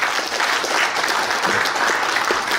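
Delegates at a regional union branch's regular assembly applaud in a dense, continuous wash of clapping from many hands that holds steady and fairly loud throughout.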